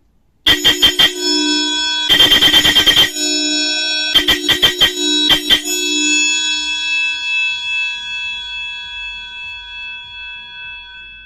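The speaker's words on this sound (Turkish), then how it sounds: "koca kafa kromboş ve bir adet Vatikan çan korna siparişi verdi bizden" A Vatican bell car horn sounds in several bursts: two quick rings, a longer ringing blast, then a few more short rings, each fading into a lingering metallic resonance.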